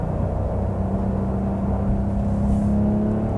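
A Porsche 992 Carrera T engine runs at a steady, smooth hum with a constant low drone and slight rising whir, heard from inside the car at moderate loudness with no talk.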